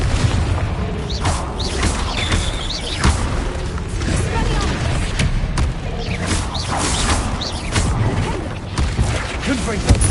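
Confringo fire spell explosions in Hogwarts Legacy burst as loud booms and thuds, one after another in a dense, busy battle mix, with a voice talking over them.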